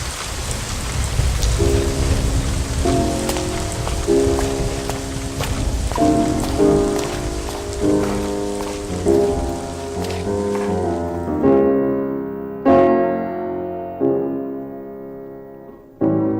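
Heavy rain pours in a dramatized night storm scene, a loud dense wash with rumbling low thunder, while slow piano chords sound over it and the rain cuts away near the end.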